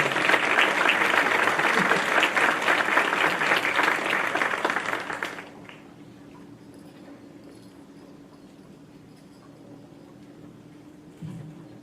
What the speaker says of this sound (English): Let's give them a final round of applause.